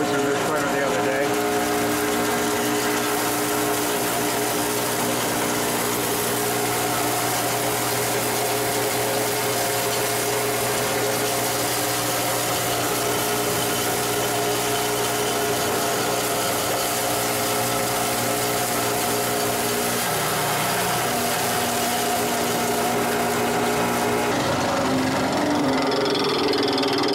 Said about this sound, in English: Here's the shredder. We're gonna go ahead and put some in.